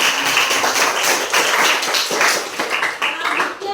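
Dense, steady clapping from a classroom of students applauding a presenting group, sustained for a few seconds with a busy, close crowd texture.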